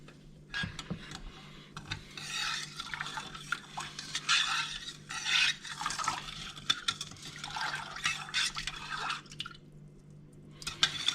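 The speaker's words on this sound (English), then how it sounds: "I am adding at least this much more wine" Wine poured into a pot of Swedish mulled wine (glögg): a steady liquid pour with dripping and light splashing, close and moderately loud, with a few faint clinks of pot or utensils and no talking.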